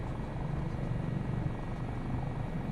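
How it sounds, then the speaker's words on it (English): A helicopter in the Microsoft Flight Simulator 2024 video game, flying near Superior, gives a steady, dense rotor and engine drone that fills the whole stretch at an even, moderate level with no talking. "They actually think it's cool because we're in a helicopter in Superior."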